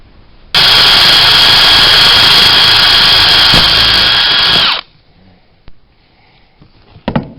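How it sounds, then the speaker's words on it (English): A power drill bores a hole through hard plastic on a homebuilt aircraft while wiring a Denso alternator, with a loud, steady close whine of about four seconds followed by quieter handling noises and a brief rattle. "I have my drill. I'm going to drill a hole basically right there."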